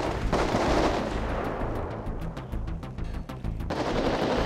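Gunfire rattles through a GTA RP shootout in quick volleys, dense crackling bursts with a tight run of separate shots in the middle, loud and close.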